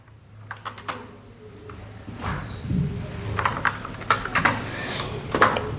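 Python code being typed on a computer keyboard: a steady run of quick, close key clicks with uneven rhythm and a few louder taps, heard alone with no talking.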